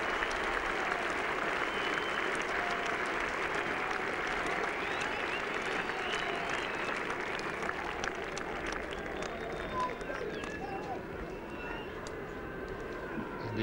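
At Headingley during a 1981 England v Australia Test, a Yorkshire cricket crowd applauds warmly and steadily for over ten seconds, a dense patter of clapping that slowly tapers as faint voices rise beneath it.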